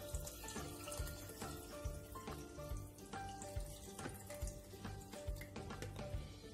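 Warm beetroot juice being poured into a jar for pickling, a steady liquid trickle and splash with faint glassy clinks, close and continuous.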